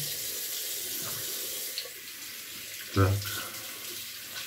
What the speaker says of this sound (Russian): Смываем пену с рук.